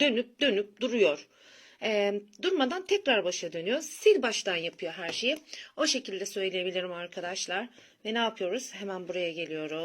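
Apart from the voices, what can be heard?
No distinct noise like a dog, phone or traffic.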